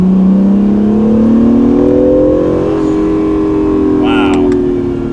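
A brand-new Acura NSX with 5,000 miles accelerates hard, its engine note climbing and building steadily in a loud, continuous sweep heard from inside the car.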